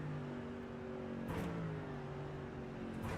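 A GT4 race car in a sim racing game at Imola, its engine note dropping as it brakes and downshifts, then rising again under acceleration, heard fairly faintly from a steady distance.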